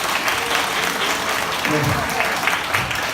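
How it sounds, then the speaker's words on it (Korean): A seated audience claps loudly and continuously to honor the team leaders, the dense applause filling the room while a voice speaks briefly. "우리 팀장님들 수고해달라고 한번 박수로."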